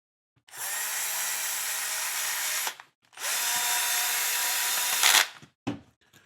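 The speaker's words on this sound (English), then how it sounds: "I'm going to put these 2 screws back in." A power drill drives screws back into a bearing build, two long steady whirring bursts close up, each ending with a brief stop and a small clatter.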